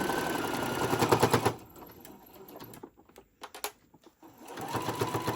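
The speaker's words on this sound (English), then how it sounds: "We're going to get this sewed up." A sewing machine stitches a ruffle-trimmed tote bag in rapid mechanical bursts, running steadily, pausing with scattered clicks and handling noises, then starting up again, close and clear.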